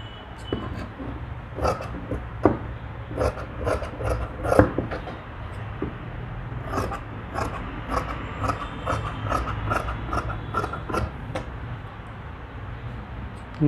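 Nighty fabric is cut during tailoring, making a close series of crisp snipping and rasping strokes at an uneven but steady pace. No one talks over it.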